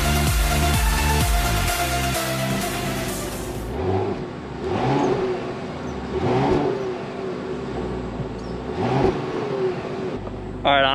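A parked BMW M40i engine revs in several rising and falling pulses, starting loud with a strong throaty burst then settling into repeated blips at idle between revs.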